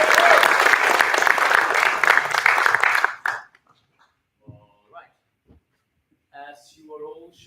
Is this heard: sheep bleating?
no